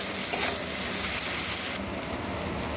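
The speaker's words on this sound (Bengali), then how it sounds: "এগুলো একটু ভেজে নিচ্ছি।" Salted vegetables frying in a pan, a steady soft sizzle and crackle with faint stirring scrapes, close and moderately quiet, with no talk.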